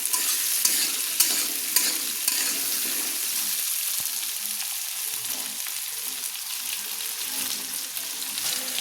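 Potatoes frying in oil and being stirred, a steady close hiss of sizzling with occasional scraping knocks of the spoon, no voices.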